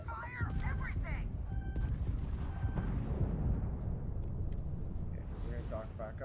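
Spaceship weapons fire in a space video game as a quick burst of booming blasts and zaps, rolling into a rumbling explosion wash with faint electronic tones.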